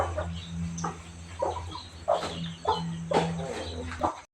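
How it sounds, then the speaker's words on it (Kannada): A hen and a young chick cluck and call in short, repeated bursts while being given feed, close by and moderately loud over a low steady hum, with no talking. "ಹಾಗೆಯೇ ಇಲ್ಲೊಂದು ಮರಿ ಕೋಳಿ ಇದೆ,"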